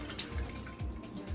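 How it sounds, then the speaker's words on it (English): Filtered water trickles into a roasting dish for roast chicken with carrots, celery and onion, a faint, brief splashing close by with no voices. "now I'm going to take a cup of water, filtered water of course"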